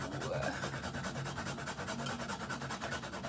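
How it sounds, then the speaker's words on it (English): Fresh ginger grated by hand for a homemade teeth-whitening mix, a steady close rasping scrape that runs unbroken throughout without talk. "So I'm gonna grate the amount that I need to use."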